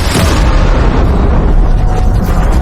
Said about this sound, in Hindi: गिरते ही विस्फोट से निकली ऊर्जा आज के 10 करोड़ परमाणु बम के बराबर थी।